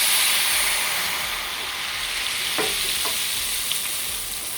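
Loud, continuous sizzle of spoonfuls of kremesan batter frying crisp in hot oil, a dense crackling hiss close up with a few sharp pops.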